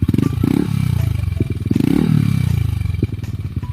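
Yamaha NMAX V2 scooter engine fitted with a JVT V3 transmission set, revving up and down close by, its low throb rising and falling steadily and sounding smooth and fairly mild.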